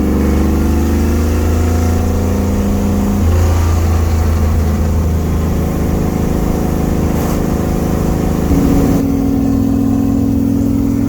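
A 1970s Pro Stock Hemi drag car with a 16-plug engine makes its final run at an all-Mopar car show, its loud close engine roaring steadily and shifting in pitch as it revs and changes gear.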